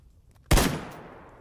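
A single loud gunshot fired in S.T.A.L.K.E.R. GAMMA, a sharp close blast that rings out and decays slowly over about a second, standing alone with no talk.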